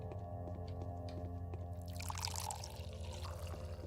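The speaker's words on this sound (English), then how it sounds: "I think we just filled all the water" Water pouring and trickling as a container is filled in the Pathologic video game, a steady liquid splash over a sustained droning game-music bed, growing brighter toward the end.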